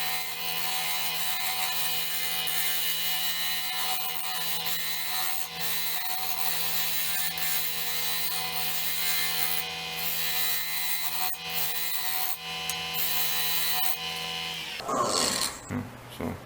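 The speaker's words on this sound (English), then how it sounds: "A round nose scraper, it's all I'm using right now." A wood lathe spins a bowl blank at about 1250 rpm while a round nose scraper works the surface, a steady motor hum under continuous rough scraping and rubbing, close up, with a brief jumble of handling noise near the end.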